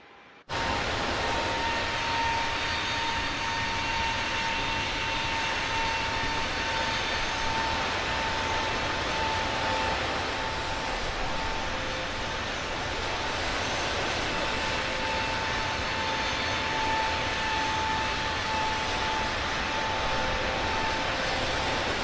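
Airbus airliner engines in Microsoft Flight Simulator 2024 hold a steady, loud broadband roar with a faint whine on top, continuous and unbroken throughout.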